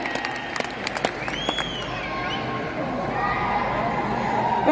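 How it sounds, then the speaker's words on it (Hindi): An audience breaks into applause after a performance, the clapping starting in scattered sharp claps and swelling into dense, steady applause from a crowd, with a voice speaking over it. "एक बार जोरदार ताली आ जाए तो मिसेस अनु दुबे"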